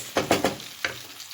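A spoon stirs tomatoes and pepper paste cooking in a pan. Three quick scraping strokes are followed by one more over a soft background sizzle, close-up with no talk.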